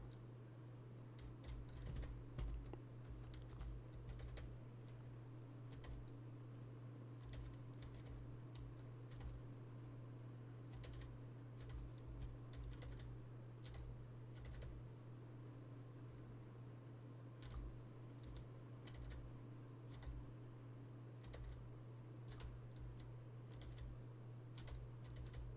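Steady close-up typing on a custom-printed split computer keyboard, a continuous run of crisp key clicks and taps over a low hum, with no voices.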